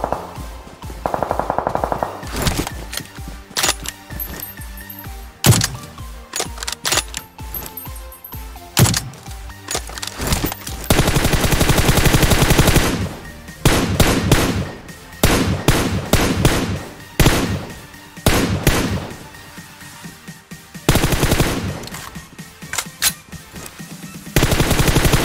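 Loud, sustained automatic gunfire from PUBG Mobile fills the scene, with rapid repeated bursts and sharp single shots broken by brief pauses, including long dense volleys near the middle and end.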